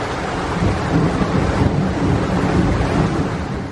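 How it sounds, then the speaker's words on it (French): Water from a neighbour's swimming pool in Rio makes a steady, broad rushing wash, constant and fairly loud with gentle swells and no voices. "c'est le bruit de la piscine du voisin qui me rend folle de jalousie au quotidien"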